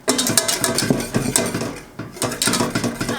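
Rhythmic scraping and clinking of a utensil stirring thickening custard in a saucepan, steady strokes repeating close by with a brief pause midway.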